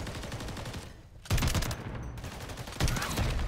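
Gunfire bursts in the Modern Warfare 3 Zombies video game, with dense fusillade and machine-gun fire running loud throughout and two sharp surges in intensity.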